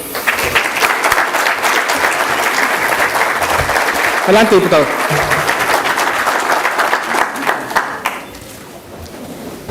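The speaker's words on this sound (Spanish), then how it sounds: "para quien pido un fuerte aplauso" An audience at a parliamentary event in Mexico applauds a speaker, a loud sustained burst of clapping that carries on for several seconds before tapering off, with a brief voice heard through it.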